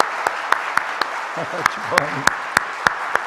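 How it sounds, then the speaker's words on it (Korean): A church congregation claps for the choir and worship leaders during a Sunday service, with sharp, evenly spaced claps in a steady rhythm and a voice speaking briefly in the middle. "이분들을 위해서 한번 큰 박수 한번 드릴까요?"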